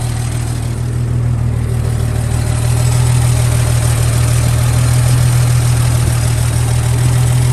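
A 1948 Dodge farm truck engine, just started after more than 25 years, idles steadily and loudly with a deep, constant rumble throughout, no voices.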